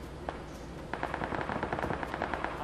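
Rapid automatic gunfire in the PUBG battle royale game, a dense stream of sharp cracks that picks up after a single early shot and rattles on steadily, fairly close and loud, with no one talking over it.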